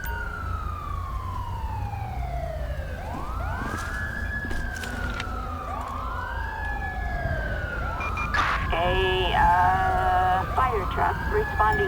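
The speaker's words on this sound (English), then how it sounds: "Fire truck responding code 3." In the GTA 5 game, a fire truck responds with its siren wailing in repeated rising and falling sweeps. A second siren overlaps, and a horn-like blare sounds near the end over a steady loud rumble.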